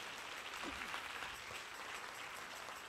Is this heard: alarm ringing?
no